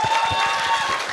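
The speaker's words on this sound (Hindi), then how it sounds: "तो आरजे सौरभ के लिए मेरे यार एक बार जोरदार तालियां दे दो।" An audience claps for RJ Saurabh at a university music and film festival in Chandigarh, a brief loud burst of applause with crowd noise and faint voices mixed in.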